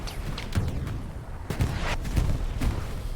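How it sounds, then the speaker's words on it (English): Explosions thud repeatedly over a busy World War II battlefield on Omaha Beach in the video game Hell Let Loose, with muffled booms and sharp cracks scattered irregularly through a constant roar of combat. "I just like the amount of explosion sounds just plop, plop, plop everywhere"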